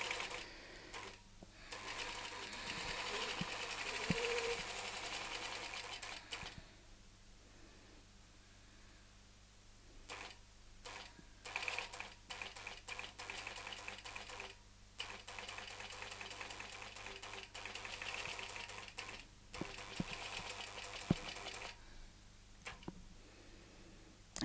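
A longarm quilting sewing machine stitches steadily, a continuous mechanical whir with brief pauses and restarts as the frame turns, heard fairly close and alone.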